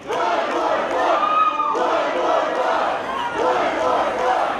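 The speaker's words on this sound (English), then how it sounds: "They're chanting one more fall." A dense wrestling crowd at an indoor independent show chants loudly and steadily in unison, calling for one more fall.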